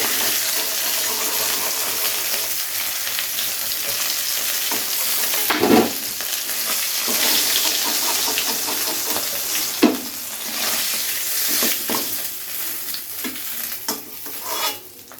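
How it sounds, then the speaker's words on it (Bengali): Fish heads fry in oil for chhyachra, a loud steady sizzle and spatter with scraping stirs and occasional sharp knocks of a spatula, no voices. "বাকি মাথাগুলো একইভাবে ভেজে নেবো"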